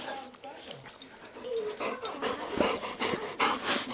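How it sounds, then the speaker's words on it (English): Pet dogs whimpering and yipping indoors in short, uneven bursts close by, mixed with someone talking over them. "There's the dumb doggies."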